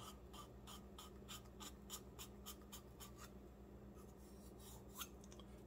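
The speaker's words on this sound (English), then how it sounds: "This is some coarse sandpaper." Coarse sandpaper rubbed by hand over a model rocket part for a Custom Rockets Game Over build, a quiet series of rhythmic raspy strokes, close and faint, with no talk.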